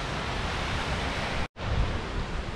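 Water gushing down Aira Force waterfall in the Lake District, a loud, steady broadband roar heard close up, with one abrupt momentary cut.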